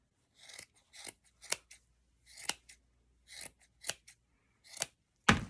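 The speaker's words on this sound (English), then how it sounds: "And now we're just going to start cutting." Sharp, crisp snips of scissors trimming yarn to shape a pom-pom, about ten separate cuts spaced irregularly, close and clear with quiet gaps and no talk.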